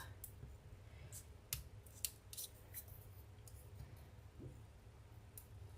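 Small scissors snip repeatedly through fake bake Halloween craft material, producing quiet, close, irregular crisp cuts over a low steady background hum.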